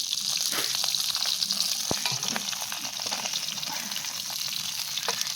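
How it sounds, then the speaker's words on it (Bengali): Fish pieces coated in turmeric and salt fry in hot mustard oil, a steady close sizzle and hiss with scattered spitting pops and an occasional soft knock. "লাল লাল করে মাছগুলো ভেজে নিতে হবে"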